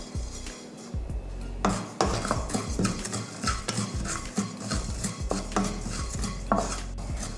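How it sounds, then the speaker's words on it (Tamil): Cumin seeds are dry roasted in a pan for rasam. A spoon scrapes and stirs them in quick close strokes, with metallic clinks and a rasping rattle of seeds against the hot pan. There is no talk. "சீரகத்தையும் நல்லா வறுத்தாச்சு, நல்லா மணம் வர ஆரம்பிச்சிருச்சு"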